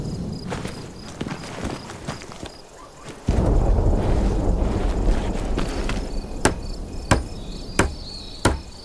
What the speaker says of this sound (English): Use the hammer in your loadout to finish constructing it.